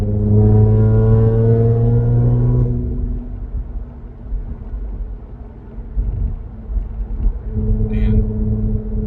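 Loud, close rumble of an Audi B8.5 S4 engine with a Jackal tune, revving up with a rising harmonic whine, settling into a deep idle, then revving briefly again.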